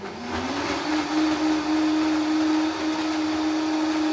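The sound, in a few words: blender blending ginger, chili, red bell pepper and onion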